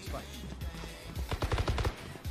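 Gunfire in the video game Valorant, a quick burst of several shots in a row after a quieter opening, close and fairly loud against the game's background sound.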